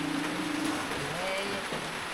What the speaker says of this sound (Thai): ค่ำคืนโอ้ยฝนก็ตกซำเนาะ